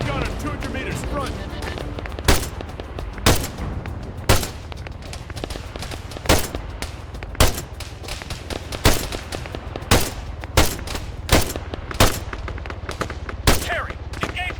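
Gunfire in the military video game ARMA 3: loud, sharp single shots at fairly regular intervals, about one every second, over a steady rumbling battlefield background.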